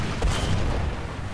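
A tank cannon fires in the tank battle game War Thunder ground forces, a single heavy boom with a long rumbling tail, loud and close.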